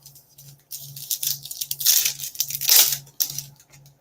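Panini Prestige trading card packs ripped open by hand, with crinkly foil tearing and crumpling in several bursts over a faint steady hum, close and fairly loud, no talking.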